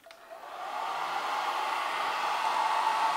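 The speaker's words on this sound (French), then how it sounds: "Alors, c'est parti, on teste le sèche-cheveux." A hair dryer on its first, cold setting at 160 watts starts up and then runs as a steady, close, even airflow hiss that holds unchanged for about three seconds, with no voices.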